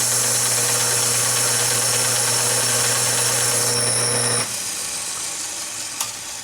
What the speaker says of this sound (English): Second thing first is to square up one of these ends, and the belt grinder does that really quick fast.